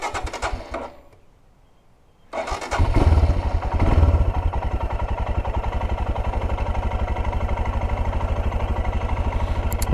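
A motorcycle engine fades briefly, then roars up and settles into a loud, steady rumble as the bike cruises along a highway.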